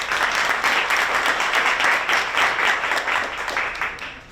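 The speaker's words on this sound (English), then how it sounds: "Let's give a round of applause for Laura." Sustained applause from a real estate panel audience, a dense, steady clapping wash that holds strong for about four seconds before tapering off, with no voices over it.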